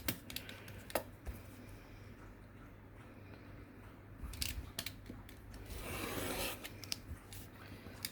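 Craft knife drawn across paper on a cutting mat while trimming a paper piece for mini file folder pockets; faint scattered ticks and a soft, longer scraping stroke near the end, quiet and without talk.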